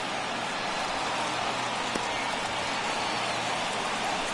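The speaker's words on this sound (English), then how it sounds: "we've mentioned the conditions aren't ideal with the rain coming down" Steady rain hisses down without a break throughout a baseball video game, Vermont Bulldogs at the Los Angeles Dodgers, as a constant even wash of noise with no voices over it.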